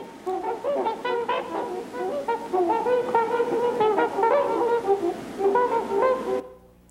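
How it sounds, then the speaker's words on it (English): A large bird with a black beak and white body calling: a continuous run of loud, honking, horn-like cries, harsh and overlapping, steady for about six seconds before stopping abruptly, with no talk. "The sound that you just heard was made by a large bird that has a black beak and a white body"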